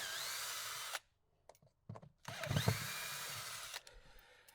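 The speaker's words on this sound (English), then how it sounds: "Simple Phillips head screws. Just gonna remove these." Power drill backing out Phillips head screws while prepping an exterior for airless spraying, with short bursts of whirring separated by brief pauses, close and fairly loud.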